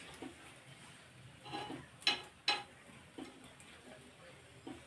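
Masala dosa bites made from idli batter being flipped in an appe pan: two sharp metallic clicks of a utensil against the pan sit near the middle, with a few lighter taps around them over a faint sizzle.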